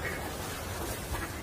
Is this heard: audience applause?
no